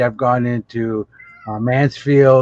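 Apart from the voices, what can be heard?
pet cat meowing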